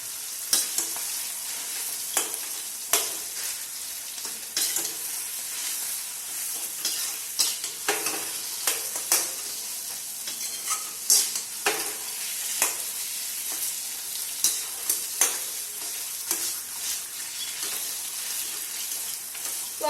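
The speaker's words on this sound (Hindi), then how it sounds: "आलू हमारे कितने अच्छे से फ्राई हो रहे हैं" Potatoes frying in a pan for samosa filling, a continuous crackling sizzle with repeated scraping stirs of a spoon against the pan, close and fairly loud, no talking.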